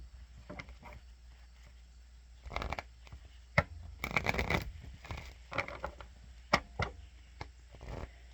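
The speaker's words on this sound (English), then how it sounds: "One more shuffle." Crisp, riffling bursts of playing cards being shuffled, a few separate ruffles with quiet pauses between, close and fairly soft.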